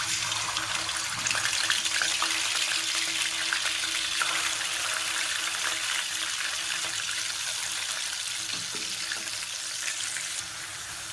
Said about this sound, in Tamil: எண்ணெய் ஊற்றிட்டு இதில் வந்து நான் ஃபஸ்ட்டு வந்து கருவாடை வந்து பொரித்து எடுத்துக்கிறேன்